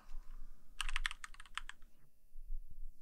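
Quick burst of keystrokes on a computer keyboard while using Blender, a rapid cluster of crisp clicks close up, then quiet.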